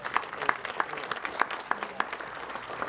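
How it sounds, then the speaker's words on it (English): Audience applause after a lunch at an awards event, a steady wash of clapping from a room full of people with sharp individual claps standing out, moderately loud and continuous throughout. "Let's give Northern a round of applause for a great meal and great service."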